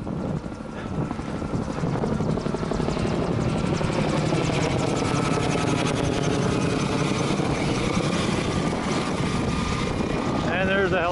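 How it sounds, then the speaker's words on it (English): Helicopters' steady rotor thump and engine roar fill the whole stretch, loud and continuous as they approach at EAA AirVenture Oshkosh 2014. "There's the helicopters coming in."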